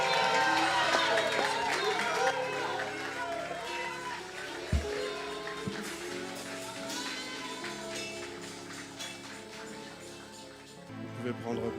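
A church congregation welcomes the pastor with loud cheering, shouting and applause, a dense crowd roar with scattered claps and thumps and voices calling out throughout.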